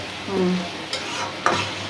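Potatoes are stir-fried in a pan, with a couple of distinct scraping spatula strokes over a steady, close sizzle.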